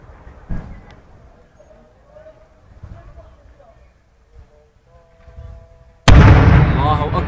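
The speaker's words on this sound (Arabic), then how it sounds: "قصف عنيف على مدينة الصنمين" Heavy shelling on the city of Al-Sanamayn: a distant thud early on amid a quiet background with voices, then a sudden loud, close explosion that rumbles on with debris and noise.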